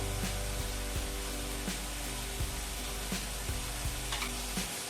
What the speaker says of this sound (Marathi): ही पण कढई गरम झाली, तेल टाकूया